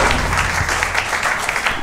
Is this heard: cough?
no